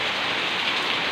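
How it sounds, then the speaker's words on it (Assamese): Heavy rain pours down steadily, a dense, loud broadband hiss of drops hitting surfaces close by with no pauses and no voices. "বৰষুণ বাৰু বহুত হৈছে চাওক"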